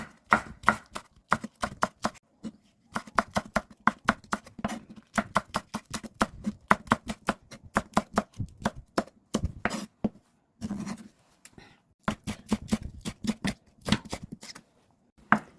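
Cheongyang chili peppers chopped with a knife on a cutting board, a fast run of crisp close knife strikes in quick bursts with short pauses between.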